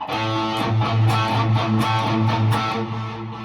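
Tight, chugging palm-muted electric guitar rhythm riff, muted low notes struck in a steady pattern, played alone and fairly loud.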